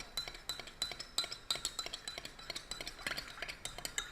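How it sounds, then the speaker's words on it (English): A metal spoon stirs an iced coffee drink in a glass. It makes a steady run of bright clinks and rattles close by, with no talk. "Give it a good stir."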